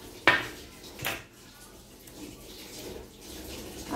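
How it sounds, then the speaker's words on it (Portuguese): Dishes being washed at a sink: a sharp clink of crockery or cutlery opens, followed by another clatter and softer rattling with running water in the background, no one talking. "O Tcholi está lavando a louça. Vocês estão ouvindo aí, né?"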